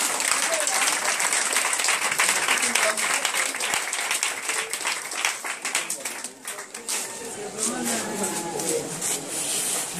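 A church congregation bursts into sustained applause and clapping, loud and dense, with scattered voices and shouts mixed in; it thins briefly partway through before swelling again.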